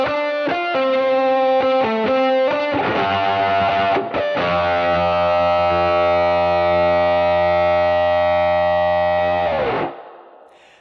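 An electric guitar through a high-gain octave fuzz with overdrive on a Line 6 Helix plays a quick run of notes, then rings out one long, buzzy, harmonically rich chord that cuts off sharply, loud and alone.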